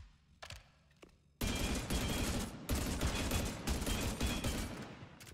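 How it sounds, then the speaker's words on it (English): Sustained video game machine gun fire, a dense loud burst of rapid shots running for several seconds with short breaks, preceded by a few faint isolated shots. "This is a machine gun,"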